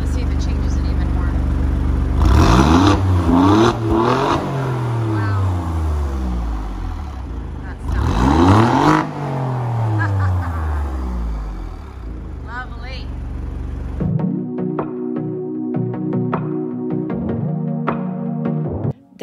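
A 2020 Alfa Romeo Giulia Quadrifoglio engine surges in two loud sweeping accelerations with rising and falling pitch, heard from inside the car, then settles into a steadier drone over the last few seconds.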